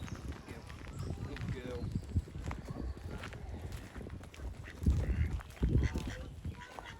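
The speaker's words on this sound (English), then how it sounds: "here we see a load of the geese again" Geese honk intermittently at a nature reserve during a family walk, moderately near, mixed with footsteps and clopping sounds while people talk over much of it.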